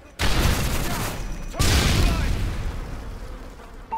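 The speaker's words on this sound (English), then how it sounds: "Tossing a flashbang!" A flashbang grenade detonates in a tactical shooter match on a MOAB map, two loud booming bursts close by with a lingering rumble between them, surrounded by the dense noise of gameplay.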